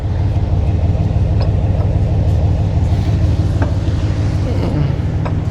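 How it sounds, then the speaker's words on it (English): A car in reverse with the wheel turned and a little gas applied gives a steady, close, low engine rumble that holds evenly for the whole stretch, with no sharp revving peaks. "Turn the wheel. yeah, about 45 degree, and just give me a little bit of gas."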